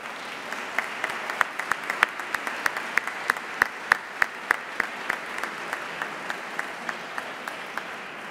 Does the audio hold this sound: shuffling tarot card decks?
no